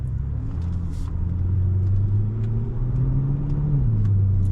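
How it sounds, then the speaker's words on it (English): A 750hp BMW M5 engine hums with its exhaust valves closed, a smooth, fairly quiet low drone with gentle rises in pitch as it accelerates on the road. "See, the valves are off. You can hear the motor more than you can hear the exhaust"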